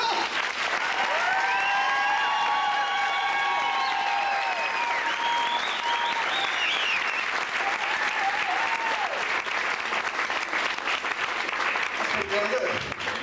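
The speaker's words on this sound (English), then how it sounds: "let's just put our hands together for all of them and rip rousing applause" Comedy club audience clapping and cheering in sustained, dense applause for about thirteen seconds, with singing voices ringing over it early on.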